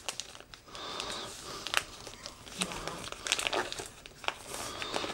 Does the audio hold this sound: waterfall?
no